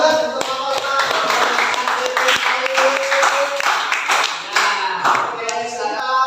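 Audience in a classroom session claps hands in a lively, uneven burst of individual claps, close and fairly loud for about six seconds.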